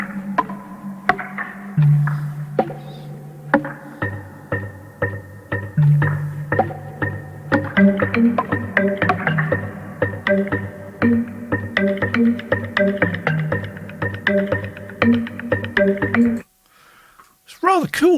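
Marimba-like wooden mallet tones from the Stack of Wood Kontakt sample instrument by Klang, playing a steady melodic line of ringing, decaying notes over a low sustained tone, then stopping abruptly near the end.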